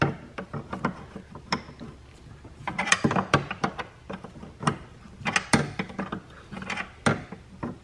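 A ratchet wrench works a 13 mm nut off the wiper linkage of a C4 Corvette, rapid irregular clicking bursts and metallic knocks, close and busy throughout with no speech.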